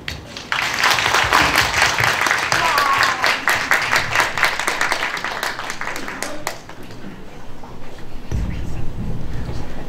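A concert audience applauds to welcome a pansori singer at a mini concert and fan meeting, a dense wash of clapping that swells and then thins out, with a voice speaking near the end.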